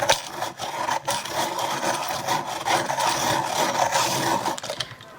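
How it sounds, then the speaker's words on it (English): Continuous gritty grinding and rasping, steady for several seconds with slight rhythmic surges, from a hand-cranked Derwent rotary pencil sharpener sharpening a pencil. "rotary sharpener with a handle."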